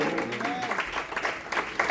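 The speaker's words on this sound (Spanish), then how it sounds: "Fuerte ese aplauso, dile poder de Cristo." A church congregation claps during a Spanish-language sermon, a short continuous patter of many hands with a voice heard over it.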